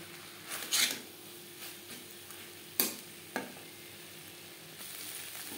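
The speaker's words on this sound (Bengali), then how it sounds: "তিন চার মিনিট মশলার সাথে আলু বেশ ভালো করে নাড়াচাড়া করে নেব।" Potatoes stirred with spices in a pan for a Bengali fish curry, a low sizzle broken by several scraping strokes and a couple of sharp clacks of a spoon against the pan, close with no talk.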